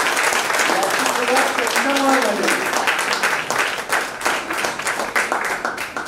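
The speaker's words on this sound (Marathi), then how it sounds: "हे कुलकर्णी सरांसाठी मोठ्याने टाळ्या वाजवा सगळं" Lecture audience clapping in applause at a legal talk on chief and cross examination, a dense steady patter filling the hall, with a voice speaking over it near the start.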